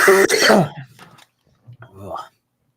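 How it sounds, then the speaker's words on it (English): A sharp cough or throat clearing bursts out up close, followed by quieter throaty sounds and a brief murmur. "Thanks for coughing all over my joke."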